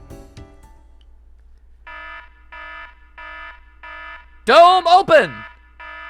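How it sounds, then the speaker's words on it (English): A biohazard-like alarm in the video game Dark Cloud sounds as a series of evenly spaced electronic beeps, which are briefly interrupted by a loud voice shouting an announcement before the beeping resumes. "This is like a biohazard alarm."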